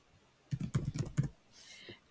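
Quick run of laptop keyboard typing, about a dozen close, crisp keystrokes in a short burst that then stops, with a faint trailing click.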